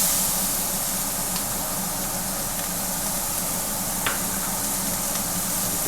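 Diced onion goes into a hot pan of browned pork turned down to medium, giving a steady, moderate sizzle with a few faint clicks and scrapes, no voices.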